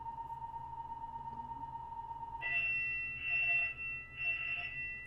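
A fire alarm goes off with a steady tone followed by three repeated loud beeps, fairly close in an indoor room.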